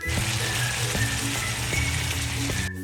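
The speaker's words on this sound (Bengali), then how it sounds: "তারপর ভালোভাবে মাংসটাকে কষে নেব, একদম মশলার সঙ্গে মিক্স করে দেব।" Mutton pieces stir-fried with salt, cumin powder and spices in a pan, sizzling and frying steadily close up with dull scraping knocks of a spatula, running alone until it cuts off abruptly near the end.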